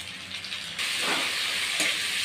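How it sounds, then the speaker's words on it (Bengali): Onion paste fries in hot oil for a dried fish curry with potato and eggplant. A quieter sizzle suddenly swells into a loud, close, steady hiss, with a faint stir partway through and no one talking. "তো পেঁয়াজ বাটাটাকে একটু ভেজে নিচ্ছি।"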